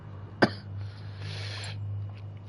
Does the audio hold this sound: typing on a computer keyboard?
no